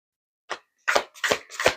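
Tarot cards being shuffled by hand make four short papery riffles, a brief one then three quick bursts close to the mic, quiet and without talk.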